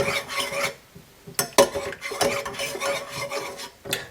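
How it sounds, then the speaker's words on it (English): A liver of sulfur solution in boiling water is stirred in a container, with scraping, clinking utensil strokes in a rough rhythm and short pauses, close and fairly loud, no talking. "stirring that up."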